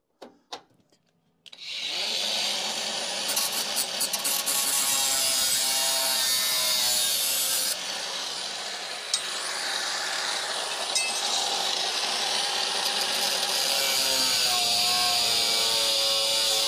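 A saw cuts a workpiece down to length with steady, continuous close-up strokes that run for about fifteen seconds after a brief quiet start.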